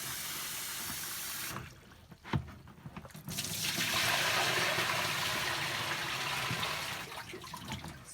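Water runs and trickles as a washed silk scarf is squeezed by hand, a short splash and pause giving way to a steady, close stream of dripping liquid.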